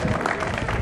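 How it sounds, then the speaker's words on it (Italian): A short burst of audience applause at an outdoor evening festival: dense, continuous clapping from a crowd, heard briefly and fairly loud. "aumentate pure il vostro applauso"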